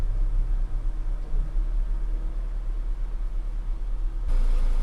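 A Mk1 VW Tiguan idles in drive on a lift with all four wheels off the ground and spinning, a low steady rumble with a faint hiss, constant throughout, with no voices.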